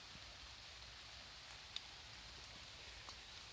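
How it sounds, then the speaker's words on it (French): Steady rain falling on a riverside camp in the Vendée at morning, a soft continuous hiss with a few faint drips and taps, fairly quiet and unbroken, with no one talking. "Mais il pleut."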